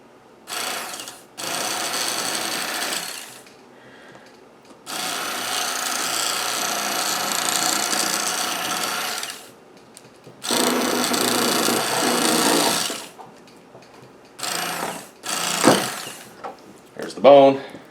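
A Bass Pro Shops XPS electric fillet knife buzzing through fish while deboning, in several close, loud whirring runs of varying length broken by pauses and small handling noises.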